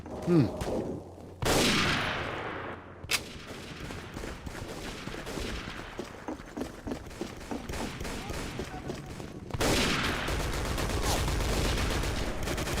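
Dense bursts of video game gunfire rattle through a firefight after a grenade blast, with sharp rapid volleys and a louder sustained burst near the end.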